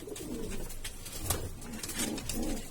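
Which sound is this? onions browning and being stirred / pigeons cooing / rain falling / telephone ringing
pigeons cooing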